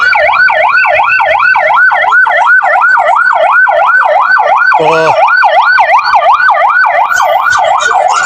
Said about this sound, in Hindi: ये हमारे नारायण वालों की एम्बुलेंस है, 1122 वाले जो है, आप लोग देख सकते हैं।